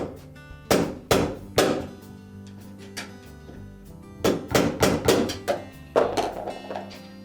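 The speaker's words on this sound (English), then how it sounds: "You can probably tap that down with a small hammer." Sharp metallic small-hammer taps on a refrigerator roller axle part, ringing out in short bursts, several quick strikes at a time with pauses between, close and loud.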